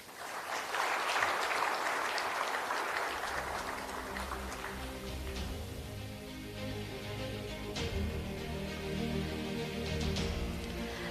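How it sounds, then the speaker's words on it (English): Audience applause fills a conference hall at a capital market investment forum after a speaker's address, a dense, steady wash of many hands clapping that holds at an even level throughout, with a faint hum of music or room tone underneath. "Ladies and gentlemen, can we give another round of applause?"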